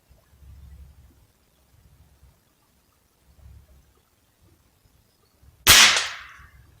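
A single loud, sharp gunshot from target shooting with cartridges outdoors, a sudden crack with a brief ringing tail near the end, after quiet stretches of faint low rumble.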